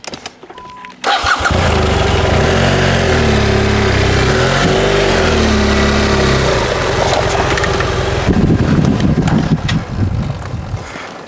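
An off-road motorcycle's engine catches and revs hard as the bike is driven up a hill on a trail, the loud, steady roar rising and falling in pitch before settling toward the end.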